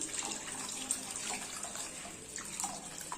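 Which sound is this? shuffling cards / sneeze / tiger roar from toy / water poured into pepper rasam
water poured into pepper rasam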